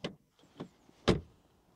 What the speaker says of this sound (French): et puis le son de fermeture des portes